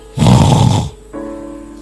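A preacher's voice imitates snoring during a Spanish-language sermon: one loud, rasping snore-like snort lasting under a second, then a quieter tonal hum trailing off.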